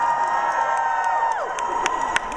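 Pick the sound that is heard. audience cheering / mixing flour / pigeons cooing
audience cheering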